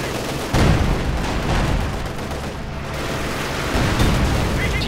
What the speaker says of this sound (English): And another artillery strike here.